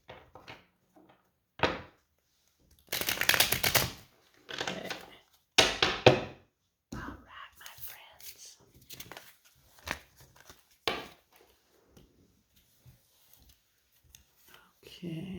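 Tarot cards are shuffled by hand in a few short, scattered bursts of riffling and cracking close by, separated by quiet pauses and softer handling sounds.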